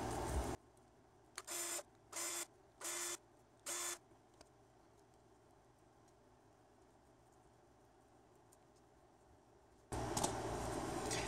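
A screwdriver backs four screws out of the cover over a brushless ESC and fan on an HPI Savage XS Flux RC car, heard as four short, even bursts of whirring in quick succession against a quiet background, followed by a louder rustle at the end.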